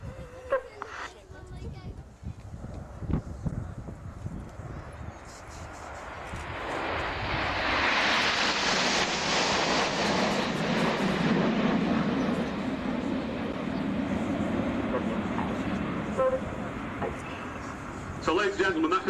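Red Arrows display jets flying the Diamond Bend at an air show at Biggin Hill, a roar that swells into a loud, sustained broadband rush as the formation passes, then slowly fades, with a commentator's voice heard before the pass.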